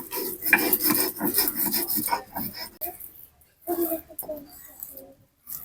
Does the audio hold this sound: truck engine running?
no